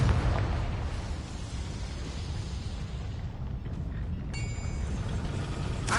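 A Confringo blasting spell fired in a PlayStation 4 video game, heard as a loud, sustained explosive roar with a rumbling low end that persists throughout, followed by a brief crackling burst near the end.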